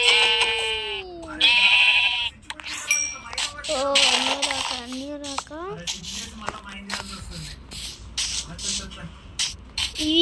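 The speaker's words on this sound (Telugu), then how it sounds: "మేక మేక మేక." Goats bleating in the video game Minecraft, several wavering, nasal cries in quick succession with clicking ratchet-like game sounds around them, and a voice talking over the noises.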